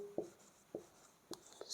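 Chalk or a marker scratches on a board in short, separate strokes during a math lesson on determinants. About four quiet taps and scrapes fall at uneven gaps, with no talking.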